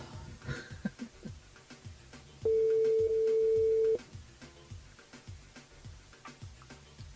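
A telephone line ringing on an outgoing call from a live radio show, a single steady electronic tone lasting about a second and a half amid a ticking, clattering background.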